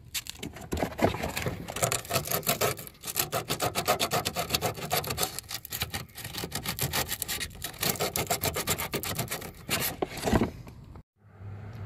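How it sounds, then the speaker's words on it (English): Car body paint on a Mk5 Volkswagen Rabbit is sanded down to bare metal, a close, harsh rhythmic scraping of rapid back-and-forth strokes with brief pauses, ending in a sudden stop. "Okay guys, I'm done sanding around there."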